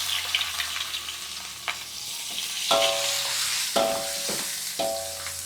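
Garlic and anchovies sizzle in a hot pan with bamboo shoots, a steady loud frying hiss broken by several clanking stirs of a utensil against the pan, close up with no talk.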